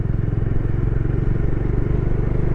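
A motorcycle from Tamil Nadu rides along a highway, its engine a steady, close, continuous rumble with a chugging low-end pulse throughout, no voices over it.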